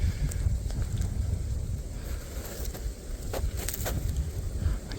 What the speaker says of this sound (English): Windy, noisy.